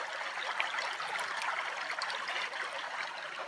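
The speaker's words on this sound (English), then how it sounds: "Can you see how that water is just sort of breaking over those rocks?" Shallow stream water rushes and breaks over small rocks in a riffle, a steady close-up broadband splashing and gurgling that continues evenly with no voices.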